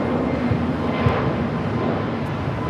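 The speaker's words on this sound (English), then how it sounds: "That is Volaris 1713 taking off to Guadalajara on the A320neo" A Volaris Airbus A320neo jet takes off from LAX, bound for Guadalajara; its steady, broad roar sounds moderately distant and even throughout.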